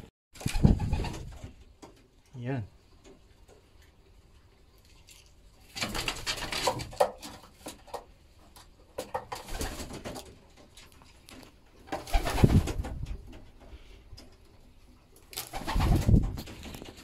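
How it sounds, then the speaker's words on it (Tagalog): Young pigeons in a loft coo in soft, low, throaty bursts, some close and some quieter, spread across the recording with quiet gaps between them and no talking. "Ito naman yung mga YBs natin, mga kalapatids."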